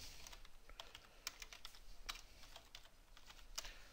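Someone types the word regedit on a computer keyboard: a quick, close, quiet run of separate key clicks with a few louder strikes.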